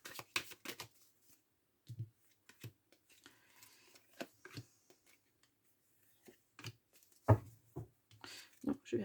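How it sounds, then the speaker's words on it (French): Three tarot cards are drawn from a deck, making quiet, scattered flicks, snaps and rustles with gaps of near silence between them. "Allez, je vais prendre 3 cartes."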